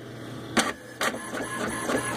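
HP ENVY 4501 e-All-in-One printer making a single black copy, with whirring mechanism sounds and several sharp clunks and pulses from the paper feed, fairly quiet and close, no talking.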